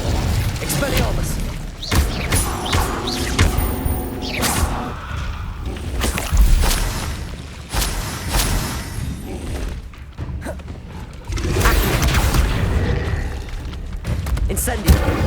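The Expelliarmus disarming spell and other spell combat in Hogwarts Legacy bring repeated booms, thuds and shattering whooshes, loud and close across the span, with bursts of action and brief lulls and a voice speaking at times.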